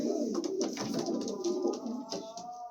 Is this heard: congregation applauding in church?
no